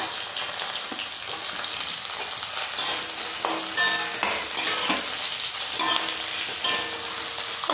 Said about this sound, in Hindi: और ये देखिए, हमारी गाजर फ्राई हो रही है।